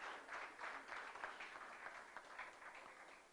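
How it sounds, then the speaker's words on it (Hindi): An audience at a Diwali gathering breaks into applause, a faint but steady patter of many hands clapping from across a hall. "जोरदार तालियां, बिल्कुल उसकी गूंज यहां तक मंच तक सुनाई देनी चाहिए"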